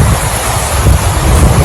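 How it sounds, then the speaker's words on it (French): A flooding river carrying mud and stones gives a loud, continuous broadband roar with heavy low rumble and wind-like buffeting on the microphone, steady throughout and without voices. "Le grondement des flots s'est fait de plus en plus fort."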